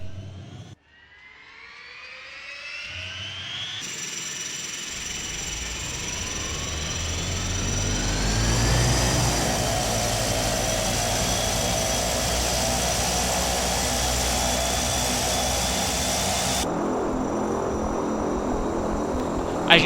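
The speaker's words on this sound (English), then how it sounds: "the engine sounds are absolutely amazing" Turboprop engines of a Short 360 spool up during start in a flight simulator. A rising whine climbs steadily, then settles into a loud, sustained propeller drone and roar that runs to the end, with no talking.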